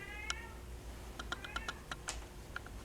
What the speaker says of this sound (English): Wish this cat would shut up.